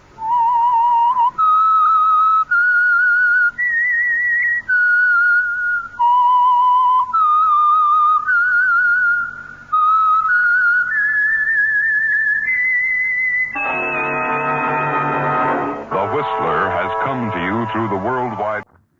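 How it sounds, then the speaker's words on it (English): A clear, sustained whistled melody of held notes stepping up and down, loud and close, then giving way to a dense musical sting: the whistled theme tune of the radio drama The Whistler. "That whistle is your signal for the Signal Oil program"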